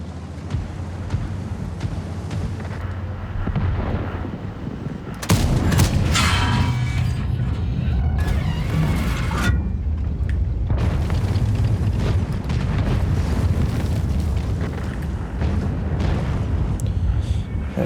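Tank cannon fire booms in the video game World of Tanks. Loud blasts and bursts sit over a dense, continuous rumble that swells heavily partway through.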